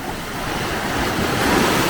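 Steady, loud surf rushes continuously, waves breaking on the beach at Akçakese near Şile, Istanbul, with wind noise across the microphone.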